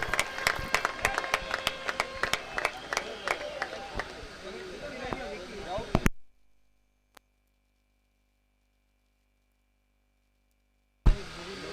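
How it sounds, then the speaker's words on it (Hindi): Spectators at a cricket tournament final applaud as players walk onto the field, a crackle of scattered, uneven claps under a voice, then sudden silence. "तालियों के साथ इनका इस्तकबाल किया जा रहा है।"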